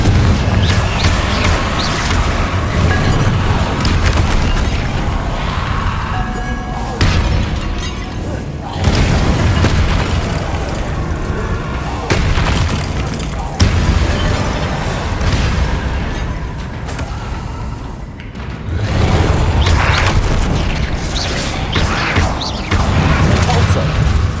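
Confringo and Incendio spells in Hogwarts Legacy go off as heavy, booming explosions, one after another in a dense, loud barrage with short gaps, while a voice talks through it.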